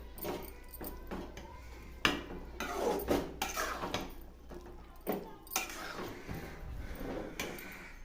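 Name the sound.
stirring eggplant kulambu in a cooking pot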